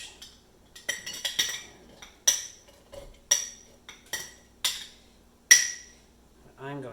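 A glass jar tamps down shredded cabbage for sauerkraut, knocking out about a dozen sharp, close glassy clinks in an uneven rhythm, with a brief voice at the very end.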